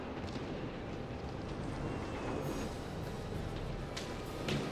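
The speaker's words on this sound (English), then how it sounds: "Explosions!" Rumbling explosion effects from a roller coaster ride in Planet Coaster, a dense, continuous low roar with crackling bursts, moderately distant and fairly quiet throughout.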